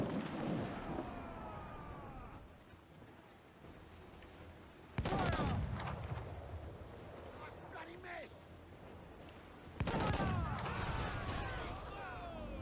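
Naval mortar volleys in Assassin's Creed 4: Black Flag burst out as two heavy booms. Each has a sharp onset followed by rolling, crackling rumble that slowly fades between shots.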